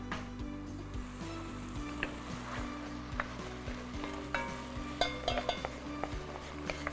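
Tomatoes and onions fry in a pan for a Turkish potato oturtma dish, a soft steady sizzle with occasional stirring clinks and taps of a utensil against the pan, close by and without talk.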